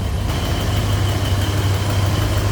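The 455 engine of a 1972 Buick Riviera idles with a steady, low, even rumble close by, with no voices over it.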